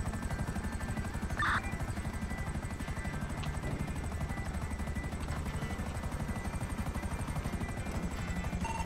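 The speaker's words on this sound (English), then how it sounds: "I'm in the helicopter." A helicopter flies in a video game roleplay, its rotor chopping in a steady, fast, continuous throb the whole time, fairly close, with a brief radio-like tone near the start and no talk.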